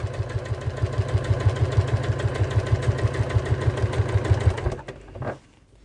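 Sewing machine running steadily at an even, rapid stitch rhythm while stitching fabric for a Sew Together bag, close and continuous for about five seconds before stopping.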